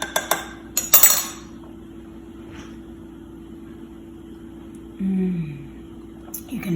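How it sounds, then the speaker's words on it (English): A spoon clinks several times against a glass while stirring a lime drink, a quick run of bright taps, then quiet with a steady low hum in the background. "I'll stir with a spoon"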